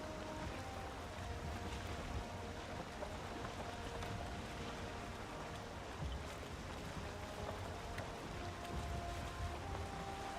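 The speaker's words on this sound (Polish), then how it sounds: "pada deszcz i płyniemy" Steady rain patters on the water during a boat voyage in the video game Valheim, a dense, even hiss that runs unbroken throughout with no voices.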